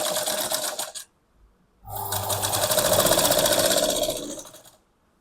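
A sewing machine cross-stitches a blouse yoke in two loud bursts of steady, rapid running, the first about a second long, then a pause before a longer stretch of close, even stitching.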